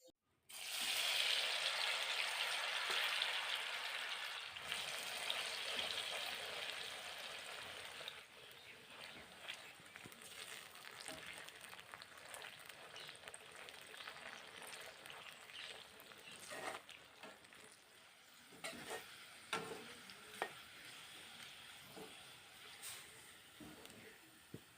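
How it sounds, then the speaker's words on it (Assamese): Crisp bitter gourd slices fry in hot oil, giving a steady, fairly faint sizzle that is louder at first and then settles into a quieter crackle with scattered pops. "বাকী থকাখিনিও একেদৰেই ভাজি ল'ম।"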